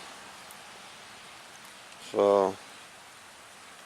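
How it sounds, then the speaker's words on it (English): Light rain falls outdoors as a steady, soft hiss of pattering drops throughout, with someone briefly saying a word midway. "It might be raining a bit more. Actually, I think it is."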